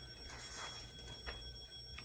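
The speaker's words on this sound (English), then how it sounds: "Sorry about the alarm" A faint electronic alarm rings with thin, steady high-pitched tones and a few soft chirps, quiet and somewhat distant with no talking.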